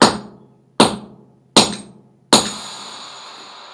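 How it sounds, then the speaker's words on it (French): A hammer strikes a metal ingot cast from a melted trophy: four hard, ringing blows spaced under a second apart, loud and close. Each one decays quickly except the last, which rings on. "j'ai commencé à donner des grands coups de marteau dans le lingot pour essayer de le transformer en cylindre"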